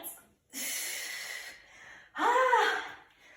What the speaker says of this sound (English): Almost blew out a candle there on my deep breathing